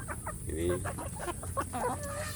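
Free-range village chickens cluck in short, repeated bursts close by, several birds overlapping in a steady, busy chatter over a faint background hum.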